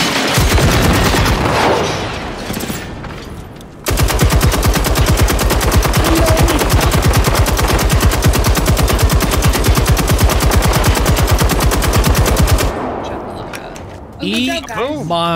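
Automatic gunfire against robots in the video game Generation Zero: a long, loud, evenly paced stream of shots fills the middle, with quieter game sounds and mechanical whirring before and after.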